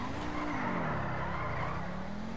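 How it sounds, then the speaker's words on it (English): A casino prize car drifts in a video game, its engine droning loudly and rising and falling in pitch while the tires squeal in a sustained skid close by. "This thing drifts like pretty good"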